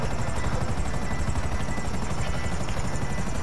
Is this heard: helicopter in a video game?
yes